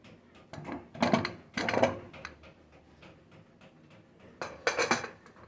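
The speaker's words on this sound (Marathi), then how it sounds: "आता आपण कुकर ओपन करायचा." A pressure cooker holding freshly made pea rice (vatana bhaat) is opened after cooling and its whistle lifted, giving a few loud metallic clanks and scrapes of the lid and pot in quick bursts against a quiet kitchen background.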